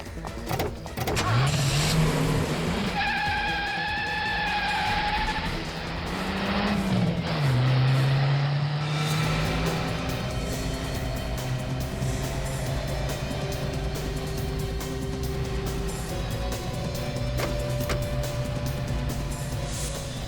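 A car engine runs and revs steadily for about twenty seconds, loud and close, with a brief pitch sweep like acceleration; occasional voices and background music sit under the motor noise.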